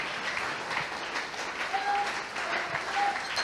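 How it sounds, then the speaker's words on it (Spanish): A church congregation claps for a steady stretch during a service, dense even applause filling the room with a couple of brief high tones and faint voices underneath. "¿Será que Él se merece un aplauso en esta hora?"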